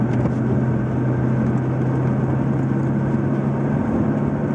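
McLaren MP4-12C driving in its soft everyday mode, a steady low engine drone heard from inside the cabin, continuous and fairly loud with road rumble and no distinct gear-change break.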